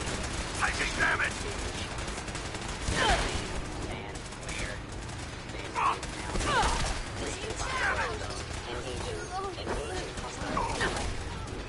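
Sustained gunfire and combat in the video game Fallout 4, with repeated bursts of shots and mechanical clatter running continuously through the clip, and voices mixed into the game sound.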